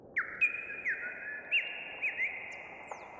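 Synthesized bird chirps: soft sliding whistle tones repeat over a faint hiss, gentle and sparse, like an electronic imitation of birdsong.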